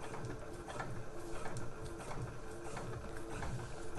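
A domestic sewing machine runs steadily through thick, padded slipper fabric, a quiet continuous whirring hum with a rapid stitching rhythm, heard alone.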